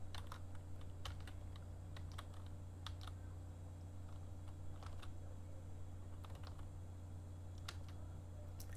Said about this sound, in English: So if I just press some keys here, it really doesn't matter what keys I press